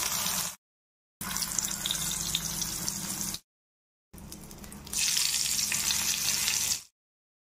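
Eggplant slices rubbed with turmeric and salt fry in hot oil for Bengali doi begun, giving a steady, fairly loud sizzle in three stretches separated by short silences. The last stretch is brighter and more hissing.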